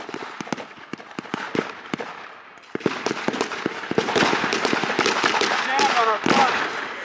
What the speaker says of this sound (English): There's an MG on the right flank! Open up on that MG!